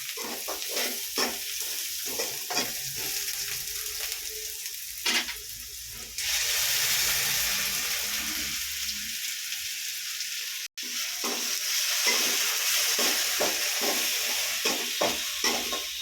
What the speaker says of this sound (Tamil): இப்போ இந்த வெங்காயத்தில் ஊற்றி வதக்கிடலாம்